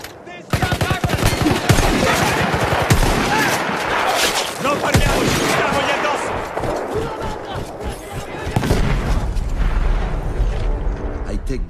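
Mounted machine gun firing in the video game Battlefield 1, loud rapid bursts of gunfire with booming impacts, dense and close, with talk underneath.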